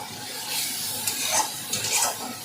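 Slit green chillies sizzle in hot oil in a pan while a spatula stirs them, with soft scraping strokes over a steady close frying hiss.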